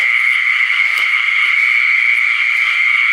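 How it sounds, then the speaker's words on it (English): A frog by a garden pond calls in a steady, loud, continuous trill, close and unbroken throughout. "man-eating frog."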